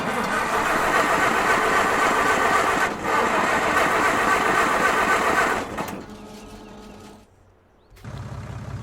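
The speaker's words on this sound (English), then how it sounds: "we'll see if the combine fires up" A combine harvester with its header attached, in Farming Simulator 19, gives a loud, steady mechanical roar for several seconds. It then drops to a lower hum, cuts out briefly, and returns as a quieter idle.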